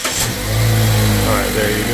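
A Mazda CX-3 engine cranks and catches after a jump start, settling into a steady close running hum with a brief rev, while a person talks.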